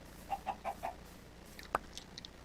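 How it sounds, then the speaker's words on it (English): A chicken clucking in a Minecraft-style video game, four quick evenly spaced clucks followed by a sharper squawk and a couple of faint higher chirps, quiet and close with nothing else around. "I hear you, chicken"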